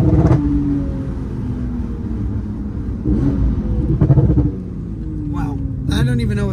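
A 750hp Porsche 911 Turbo S engine hums and rises in revs from inside the cabin, the drone shifting pitch a few times beneath ongoing conversation.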